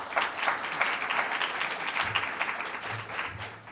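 An audience at a public talk on the Paris climate negotiations applauds, a soft, even wash of many hands clapping from across the room that continues for a few seconds without voices.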